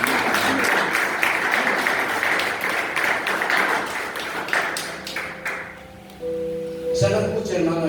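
Church congregation applauding during a sermon, a loud dense clapping wash that gradually thins and fades, followed by a sustained tone and the start of a voice near the end.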